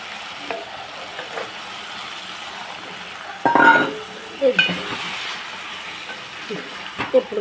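Curry with brinjal, raw mango and eggs being stirred in a frying pan, with a soft steady sizzle and a few louder scraping clinks of the spoon against the pan, close by and with no talk.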